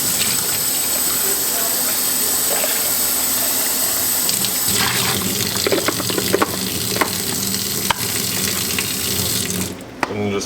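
Running tap water rinses the filter of a Karcher KC5 hard floor cleaner, a steady broadband rush with splashing changes partway through and a brief pause near the end.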